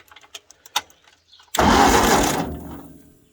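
A 1953 Ford Golden Jubilee, rewired with a rigged key switch, catches after a few clicks and clunks, its engine roaring loudly to life and then settling and fading within a couple of seconds.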